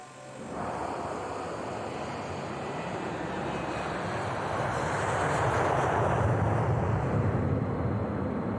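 Jet airliner engines roar steadily as an Alaska Airlines flight takes off and climbs out bound for San Francisco, a loud continuous rumble that swells gradually toward the end, with no voices.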